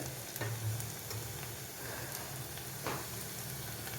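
Curry leaves sizzling in hot oil while making a carrot and bitter gourd pickle, a soft continuous frying hiss with a few brief crackles and stirring sounds, fairly quiet.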